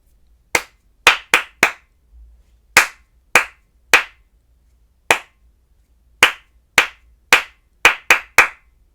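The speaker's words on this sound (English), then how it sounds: "Let's do number 7 one more time, but this time just clapping." Single sharp hand claps ring out in an irregular rhythm for a music-class reading exercise, about fifteen distinct close claps in short groups separated by gaps, over near silence.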